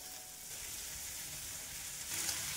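Spices and spring onion greens sautéing in oil for a Maharashtrian brinjal bharit, a faint steady sizzle that swells briefly near the end, with no talking.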